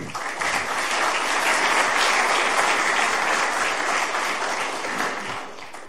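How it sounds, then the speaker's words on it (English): A large conference audience claps steadily for several seconds, a dense sustained wash of applause that tapers slightly at the end. "Please give him a big round of applause."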